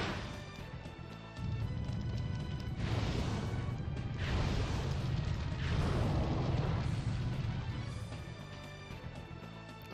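A fire attack called Burnout in the video game Legend of Dragoon, a loud sustained roaring blast with several crashing, explosive surges that swell and fade over a few seconds.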